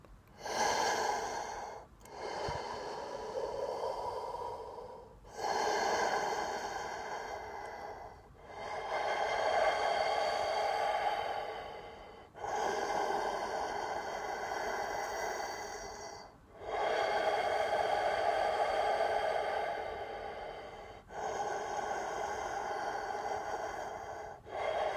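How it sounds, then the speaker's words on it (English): Slow, steady breaths drawn in and out through a plastic bottle with its bottom cut off and held in the mouth, each long airy, hollow-sounding breath separated by brief pauses, close and alone with no talk. "And you start to breathe."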